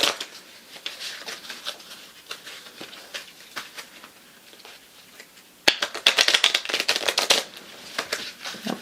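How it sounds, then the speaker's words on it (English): A deck of Rocky Mountain Wildflowers playing cards is shuffled up close, with soft riffling and patter at first and then a louder, denser burst of rapid flutter in the last few seconds. "Going to shuffle."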